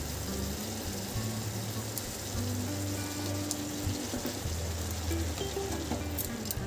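Grated kohlrabi fries in a pan with spices and potatoes, giving a steady, even sizzle that runs unbroken throughout over a low background hum.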